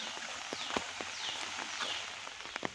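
Rain falls outdoors over a river valley among Konkan paddy fields, a faint steady patter with scattered louder drops striking nearby surfaces.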